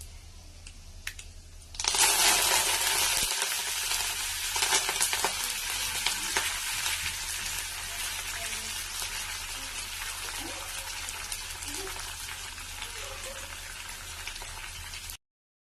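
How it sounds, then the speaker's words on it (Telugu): Garlic, cumin, mustard seeds, coriander and curry leaves are dropped into hot oil for a tempering, bursting into a loud, steady sizzle after a quiet start, with crackling and occasional stirring until it cuts off. "పోపుకి ఫస్ట్ కొంచెం ఆయిల్ వేసుకొని తర్వాత కొన్ని వెల్లిపాయలు, జీలకర్ర, ఆవాలు, కొత్తిమీర, కరివేపాకు వేసుకొని వాటిని బాగా వేగనిద్దాం"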